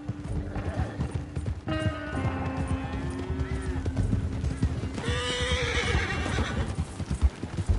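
A horse in the video game Red Dead Redemption 2 gives a long, clear whinny, then a second high neigh, while hooves clip-clop steadily on the ground beneath and faint mechanical rattles sound nearby.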